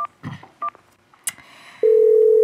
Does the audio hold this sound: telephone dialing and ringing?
yes